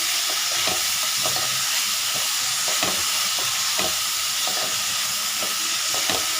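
An onion uttapam dosa cooks on a hot griddle with a loud, steady hissing sizzle, broken by scattered soft taps and scrapes.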